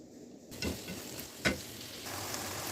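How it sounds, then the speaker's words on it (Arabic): Sausage stirred in a frying pan with cumin and black pepper, a soft steady sizzle with a couple of scraping stir strokes, close and fairly quiet, with no talking. "ننزل بالسجق، نديلها بس تقليبة"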